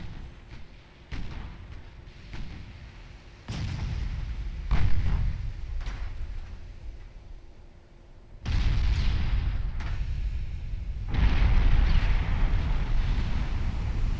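Warship shells firing in Ultimate Admiral Dreadnoughts, several heavy booming salvos spaced across the clip with sustained rumbling wash between them, loud and close, no talking.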